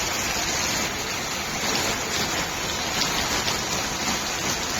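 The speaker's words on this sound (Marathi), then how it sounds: "जोरात पाऊस आला आता बघा क्लायमेट बघा पूर्ण" Heavy monsoon rain pours onto a village house courtyard, a dense, even hiss of drops on surfaces that holds steady and loud throughout, with no voices.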